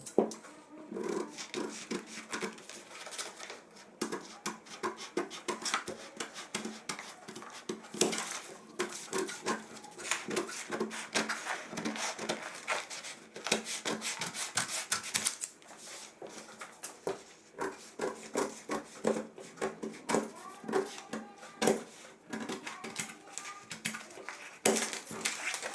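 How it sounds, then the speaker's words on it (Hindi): Scissors cut the back piece of shirt fabric for a down-shoulder shirt, making close, irregular snipping clicks and rustles in quick bursts throughout, with no talking. "अब मैं इसकी बैक काट देता हूँ।"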